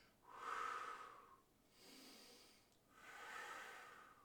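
Deep breathing during a shoulder rotation bodyweight exercise, three soft, drawn-out breaths close to the microphone, rising and falling slowly with short pauses between them.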